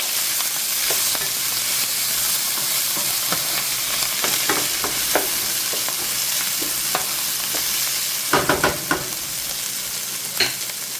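A rotini mixture sizzles in a pan while being stirred, with a constant frying hiss and irregular utensil scrapes and taps, clustering into a brisk burst of clatter near the end.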